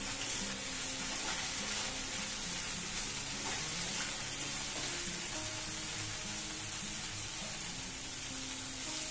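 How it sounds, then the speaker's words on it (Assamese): Okra frying in a pan with salt and turmeric, a soft, steady sizzle heard at low level with a faint tonal hum running behind it. "মই গোটেইখিনি ভেন্দিয়ে ভাজি ল'লোঁ"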